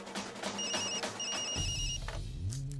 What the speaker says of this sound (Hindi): फोन बज रहा है, सुनाई नहीं देता?